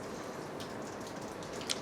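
Rain falls steadily in Kingston, Jamaica, as a soft, even hiss with faint patters and drips, heard from indoors and fairly quiet throughout.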